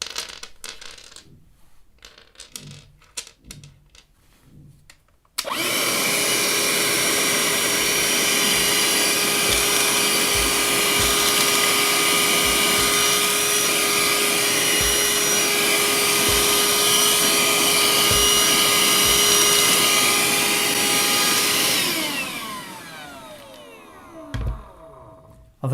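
A Parkside 20V cordless vacuum cleaner runs on a workshop clean-up of nuts and sawdust. A few knocks and clatters come first, then the motor starts with a steady loud whine held for about sixteen seconds before it spins down.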